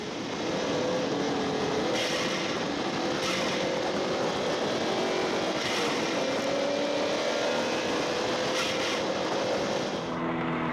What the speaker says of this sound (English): Peter Cullen's Di Tommaso Pantera streaking down the coast, desperate to haul in the classic leader Tony Reeves from Whakatane.